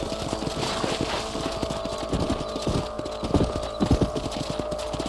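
Horse hooves clip-clop at a steady gallop in the Red Dead Redemption video game, loud and close, with thudding beats that strengthen toward the end over a constant background bed.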